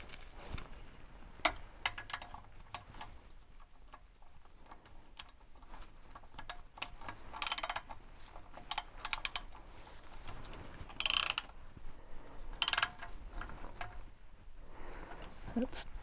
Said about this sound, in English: I'm just going to tighten that and torque it to 65.